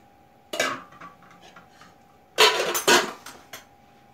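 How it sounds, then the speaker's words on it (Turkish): Cauliflower poured and spread over a dish of soup being prepared, heard as close clattering of pots and utensils in two bursts separated by quieter handling, with a faint steady hum underneath. "Karnabaharımı da üzerine dökeceğim. Şöyle yayıyorum her tarafına."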